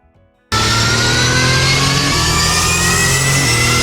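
A car engine in Assetto Corsa bursts in after a brief quiet and revs hard and steadily while driving a lap, loud and close with a strong sustained tone and no talking.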